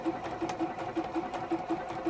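A domestic sewing machine runs in a fast, even whir, stitching applique petals on a sunflower quilt block, close and steady with a faint rhythmic pulse.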